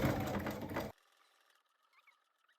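A domestic Brother sewing machine runs a short, dense burst of back stitching up close, then stops abruptly, leaving faint handling noises in near silence.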